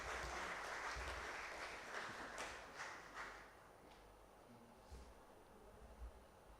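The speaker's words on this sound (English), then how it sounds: "Friends, a warm round of applause, please." Audience at an anniversary celebration applauding people invited onto the dais, a faint, distant clatter of clapping that starts fuller and thins out over several seconds.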